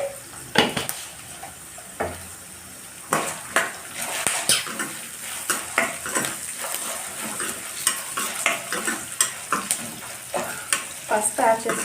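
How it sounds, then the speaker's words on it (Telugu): Green chillies fry and sizzle in a pan, with repeated scraping and clanking as they are stirred in steady bursts, close and fairly loud, with no talking. "ఈ మిర్చి అనేది కూడా బాగా ఫ్రై అవ్వాలి."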